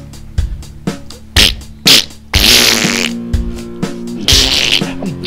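Mouth-made fart noises, a string of short wet blasts and a few longer raspy sputters, loud and close by with no other sounds around them, as a performer imitates farts with his mouth during a crude improvised prog rock freestyle.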